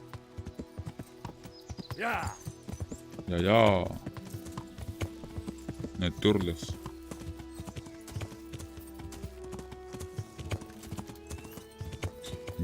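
Horse hooves clip-clop in a steady rhythm in the video game Kingdom Come: Deliverance, under a streamer's talk and game music, with brief horse snorts or whinnies.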